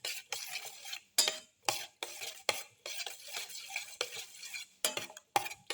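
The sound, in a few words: mixing shallots into omelette mixture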